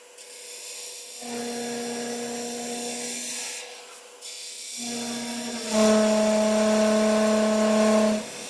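A drill bit re-bores a wooden piece mounted on a wood lathe, producing a steady high-pitched whine in two long bursts separated by a short pause, the second louder and sharper.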